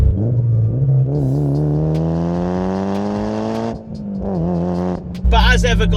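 Mitsubishi Evo 7 with a 007 forged dump valve, its engine revving steadily upward under load and then dropping off, followed by a sharp hiss of the blow-off valve venting. The sound is close and loud, like an onboard recording.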